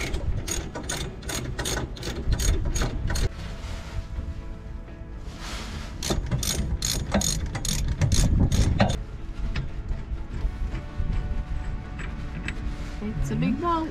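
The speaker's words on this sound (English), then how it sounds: "we just need to use the E24 socket to fully undo them" A ratchet turned with an E24 socket undoes large shock absorber bolts, giving rapid, close clicking in repeated bursts with short pauses between them.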